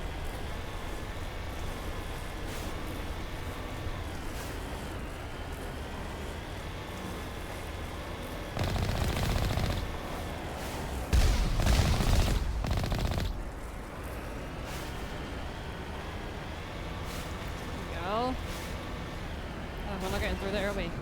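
Rockets and gunfire in the Mass Effect Legendary Edition video game: loud bursts of explosions and rapid shooting cut through a steady vehicle engine rumble, with a quieter stretch between the blasts.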